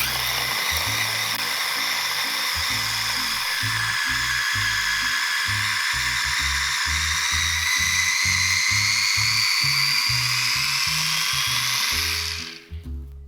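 Countertop blender whirring through a vegan sauce, a loud continuous high-pitched motor whine with a pulsing low chop from the blades, steady throughout, then winding down abruptly at the end.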